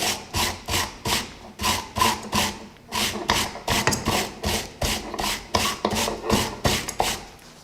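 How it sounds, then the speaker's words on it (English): Steady rhythmic scraping of a stiff wire brush rubbed back and forth over a twisted steel keychain, dozens of even strokes in a row, close and fairly loud. "Give it the final wire brushing."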